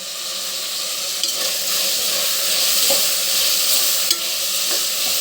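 Tomatoes frying in a pressure cooker for chicken pulao, a continuous bright sizzling hiss with brief stirring scrapes, steady and fairly close.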